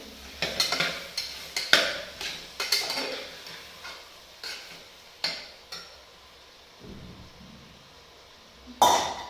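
A yogurt and chilli mixture being sautéed in a pan for biryani: a spatula clinks and scrapes against the pan in quick irregular strokes over a faint sizzle, then slower, sparser stirring with quiet gaps, close and without talk.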